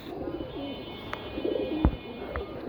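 Domestic pigeons coo softly and steadily at close range, with a sharp thump near the end that may be a wing flap, against a low background hum.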